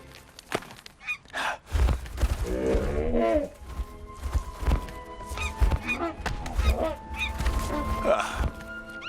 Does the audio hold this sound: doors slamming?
no